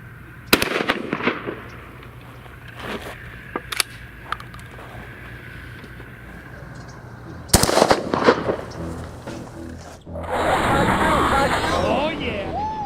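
Gunshots fired at a target on the ground outdoors, a few sharp loud cracks early on and a cluster of close shots midway, with voices talking in between and a burst of excited shouting at the end.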